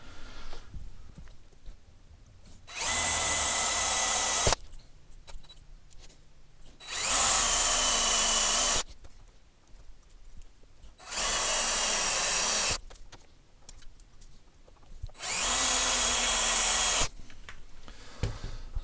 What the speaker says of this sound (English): let's drill this.